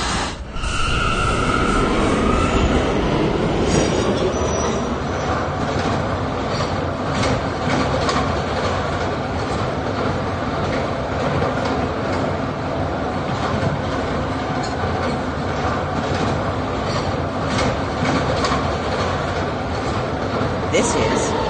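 Riding aboard an R179 New York subway K train, steady loud wheel rumble and rhythmic clickety-clack continue throughout, with a voice speaking over the running train.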